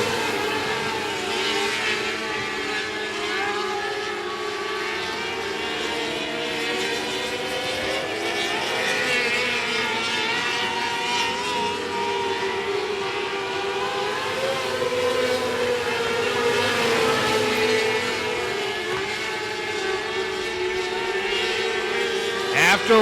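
Race cars roar around a speedway dirt track at the start of heat race 2, a continuous dense engine drone that swells and fades as the pack passes, with a public-address announcer talking over it.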